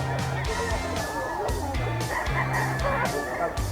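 A bullstag gamefowl rooster crows loudly and close by over a busy market backdrop, while other fowl cluck and crow around it and people talk faintly in the background.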